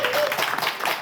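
Studio audience at a French game show applauding a contestant, a short burst of dense clapping, loud and close, for about a second.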